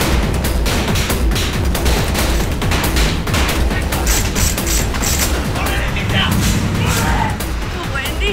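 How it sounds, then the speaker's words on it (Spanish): Blank rounds from Beretta pistols fire in a dense, continuous volley of loud sharp bangs on a TV drama set, with mechanical clatter throughout and occasional voices mixed in. "Nuestra salva es algo como esto, no tiene ojiva, es puro sonido y obviamente el flash que tiene enfrente nuestra arma."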